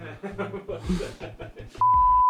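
A phone's Google Assistant sounds a single sustained electronic beep tone right after a person speaks, loud and close, running to the end of the clip.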